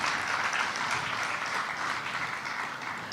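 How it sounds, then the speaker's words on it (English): Sustained applause from a conference audience at an annual gathering of portfolio managers in India, a dense steady patter of many hands clapping at even volume throughout, with no voices standing out. "One more round of applause for all of you"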